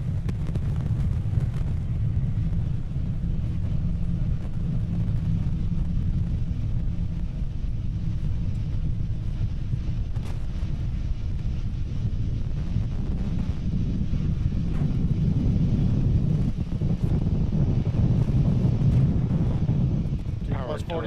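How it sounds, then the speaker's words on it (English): A Falcon 9 rocket with nine Merlin 1D first-stage engines in flight on the Iridium-6/GRACE-FO mission gives a distant, continuous low roar with windy buffeting, while voices talk over it. "We're currently throttling down the 9 Merlin 1D engines on the first stage"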